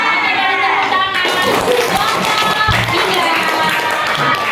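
Hand clapping from a fifth-grade classroom during a civics lesson, a dense spread of many claps mixed with children's voices and chatter throughout.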